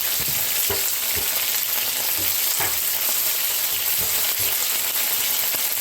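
Chicken pieces sizzle and crackle steadily in a hot pan, a loud, dense frying hiss with occasional louder pops and stirring clatter, close up and without speech.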